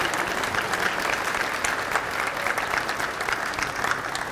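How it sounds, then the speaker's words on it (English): Students at an awards program applauding their families, dense, sustained clapping from a large indoor crowd, steady and fairly loud throughout. "I would like for you to give a round of applause to your family that is here tonight for supporting you"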